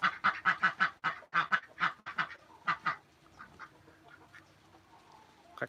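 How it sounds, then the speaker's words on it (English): Several ducks quack loudly and close by in a quick run of about ten calls over the first three seconds, then fall to a quieter background with only scattered faint calls. "we have ducks. And they are hungry."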